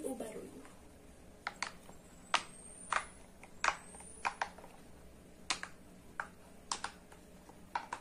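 A pop-it fidget toy with its bubbles cut apart is pressed, giving a dozen or so sharp, loud pops at irregular intervals, close by against a quiet room.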